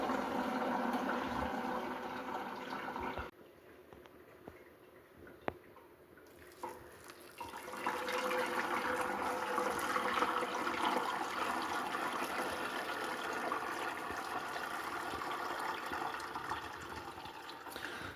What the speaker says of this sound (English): Now that my water is boiling, I'm going to pour it over the ground beef.